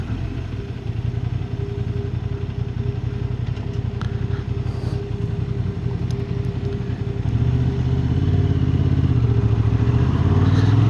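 A Honda Hornet 750 motorcycle being ridden, with its engine droning steadily at close range. The note rises and grows louder toward the end as the rider works the clutch. No voices are heard.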